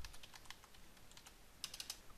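Someone types a command on a computer keyboard during a Minecraft server setup. A quick run of light key clicks is followed by a few sharper taps near the end, faint and close with no talk.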